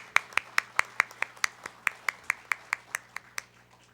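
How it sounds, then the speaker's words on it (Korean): Steady rhythmic clapping, about five claps per second, a small group applauding a mayor at a moderate level during a residents' self-governance association founding assembly in South Jeolla Province, Korea. "시장님께 박수 한번 부탁 올리겠습니다."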